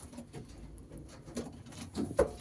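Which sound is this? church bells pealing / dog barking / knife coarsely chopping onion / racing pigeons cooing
racing pigeons cooing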